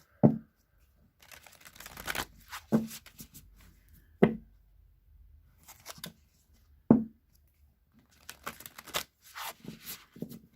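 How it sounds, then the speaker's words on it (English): Halloween Oracle cards are shuffled in several separate bursts, each a crisp riffling flutter starting with a sharp tap, with quiet pauses between. "I'm going to shuffle the Halloween Oracle now"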